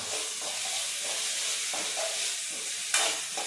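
Tomatoes fry with onions in oil for a chicken gravy, a steady close hiss and crackle of sizzling with soft stirring movements and one sharper metallic clank near the end; no talking.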